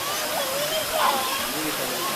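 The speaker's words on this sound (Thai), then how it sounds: "เราก็จะเจอนะครับ น้ำตกชาเสียงชั้นหนึ่ง" Water pours over the first tier of Cha Siang waterfall in a constant rushing wash, with a faint voice and brief splashy swells rising over the roar.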